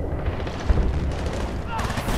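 Gunfire and explosions in the video game Battlefield: Bad Company 2, a few dull booming shots in a short burst under a player's spoken commentary.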